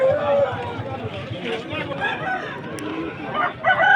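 Roosters, including eleven-month-old fighting cocks, crow and cluck at a busy Vijayawada rooster market, calls rising over a loud crowd of chattering voices.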